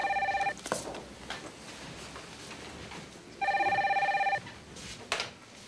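An indoor telephone gives two bursts of electronic bell ringing, each about half a second and a second long, loud and close, with faint background room sound in the gaps and no speech.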